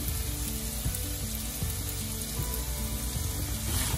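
Raw banana pieces fry in plenty of oil in a pan, giving a steady, dense sizzle that stays loud and close throughout, with faint stirring.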